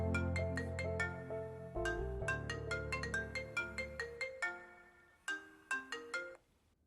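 A mobile phone ringtone plays a bright, repeating melodic tune alone, in several phrases with brief pauses, fading at the end.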